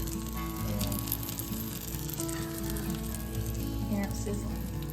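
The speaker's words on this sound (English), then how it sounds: "Yeah, it's sizzling" A freshly baked spinach sausage calzone sizzles and crackles steadily as hot filling bubbles through the crust, a soft continuous frying hiss heard close up with faint background noise.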